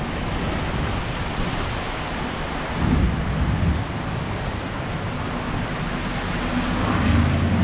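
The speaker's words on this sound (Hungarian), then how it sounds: "Bevágott a vihar, de rendesen." Thunderstorm outdoors with a broad, steady roar of heavy rain and wind, a deep thunder rumble swelling around the middle and another toward the end, loud and continuous with no talking.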